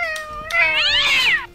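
A human voice imitates an angry cat with one loud, rising and falling yowling caterwaul, set in a home kitchen while rice, ham and cheese fritters are being made.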